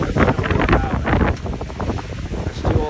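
Strong gusting wind buffets the microphone outdoors during a windstorm, a loud roaring rumble that swells and eases in uneven gusts.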